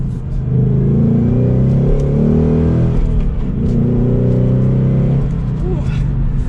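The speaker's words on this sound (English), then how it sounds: "Listen to that V8 roar." 2022 Ford Mustang GT coupe with its V8 engine roaring under hard acceleration from second gear, a loud close rumbling growl that climbs in pitch, dips briefly and then rises again.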